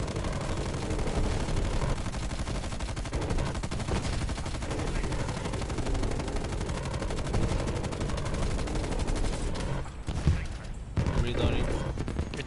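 Gunfire in a multiplayer shooter aimed at an aircraft: dense, continuous shooting and explosions fill the scene with a brief lull near the end, and players talk over it.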